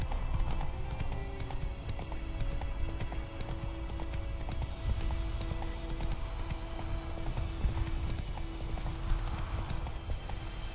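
Hoofbeats of a horse named in The Witcher 3: Wild Hunt game, a steady clip-clop rhythm of galloping repeating close and loud throughout, with game ambience and occasional faint whinnies around it.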